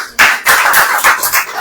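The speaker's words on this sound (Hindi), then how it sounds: "ताली धीरे सुनाई दे रही है" Congregation clapping at a Hindi-language church service, a dense burst of many hands applauding that starts abruptly and continues steadily, loud and close with no voices over it.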